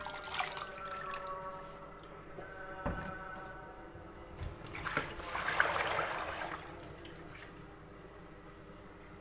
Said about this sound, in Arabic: انا فتحت عليها الميه البارده شويه